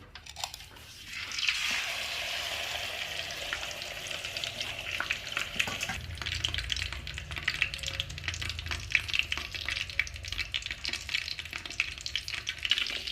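Hot oil sizzles and crackles loudly as fish hits an electric frying pan, a steady hissing fry with popping bursts that continues throughout.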